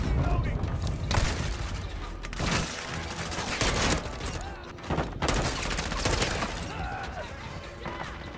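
Rapid, loud gunfire fills a Modern War firefight, with dense automatic bursts and heavy booms nearly continuous throughout, alongside brief pauses.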